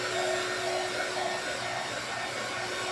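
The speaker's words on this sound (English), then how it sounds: "Just don't melt it with your heat tool" A heat tool blows hot air in a steady, even whoosh with a faint hum, close up and continuous for a few seconds, with no voices.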